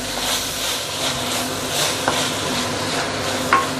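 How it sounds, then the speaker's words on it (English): Spicy pork being stir-fried in a hot pan, a loud, dense, continuous sizzle with the rhythmic scrape of stirring and a faint utensil tap near the end, close up with no talk. "The stir fry shouldn't take too long."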